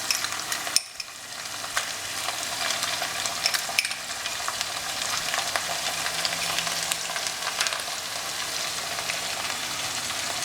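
Garlic ginger paste sizzles steadily in hot oil in a pan while it is stirred with scraping strokes, cooked as part of a dry mutton dish, a constant close frying hiss with no talking.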